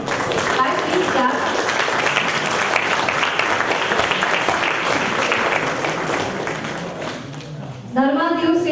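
A crowd applauds during a name-reading ceremony, with a thick, sustained burst of clapping that fades toward the end, after which a voice begins speaking over the quieter room.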